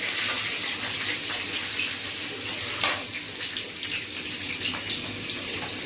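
Cashews frying in oil in a pan while cooking a yogurt meat curry, a steady close hissing sizzle with small crackles and no talking.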